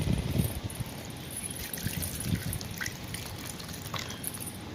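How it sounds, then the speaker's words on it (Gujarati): Water poured into a mashed potato and flour dough mixture for potato puri, a soft, steady trickle and drip heard close but quiet, with no talking. "હવે આપણે નાખશું પાણી"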